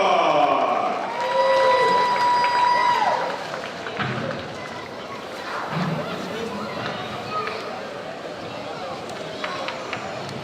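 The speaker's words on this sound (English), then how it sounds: "give a huge round of applause for your Atlanta Cheer Squad" A basketball-game crowd applauds and cheers for a cheer squad, a loud burst of clapping over an announcer's voice that fades into general arena hubbub and chatter.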